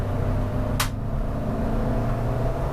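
A Renault Twingo race car on a track day, its engine a steady loud low drone from inside the car as it carries speed, with one brief sharp click partway through and no talk.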